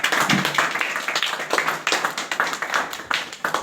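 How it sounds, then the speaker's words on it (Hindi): Audience applause welcoming a speaker at a motivational event, dense and energetic clapping from many hands, close and loud throughout with faint voices mixed in. "इनको बुलाने के पहले आप लोगों को क्या करना होगा कि जोरदार तालियों के साथ स्वागत करना है"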